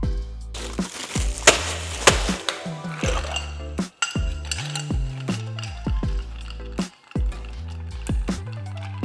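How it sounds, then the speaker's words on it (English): Ice clinking and rattling against a mixing glass as an old fashioned cocktail of whiskey, bitters and sugar is stirred, with repeated close, bright clinks and chimes in an irregular rhythm, no talking. "you can simply stir it with ice"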